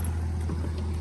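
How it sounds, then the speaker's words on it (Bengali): A boat passes on the water near a suspension bridge in Rangamati, its engine a low, steady drone held close and continuous. "এই যে বোট যাচ্ছে"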